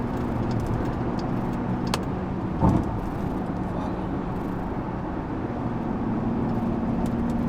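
A modified Jeep engine drones steadily from inside the cabin while driving, a low continuous rumble with a brief thump partway through.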